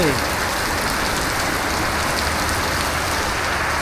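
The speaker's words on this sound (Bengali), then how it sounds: "বৃষ্টি দেখতেছি" Steady heavy rain falls outside a car on a dark evening, a dense continuous hiss and patter that stays loud and even throughout.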